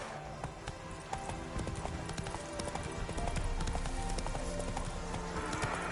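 A horse trots in The Witcher 3 video game, its hooves beating a steady, close clip-clop rhythm that runs throughout at moderate loudness over faint ambient game sound.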